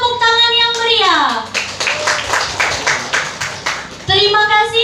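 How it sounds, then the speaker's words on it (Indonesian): Lively audience applause after a contestant's turn at a high school speech contest, a steady burst of clapping between stretches of amplified speech at start and end. "Berikan tepuk tangan yang meriah"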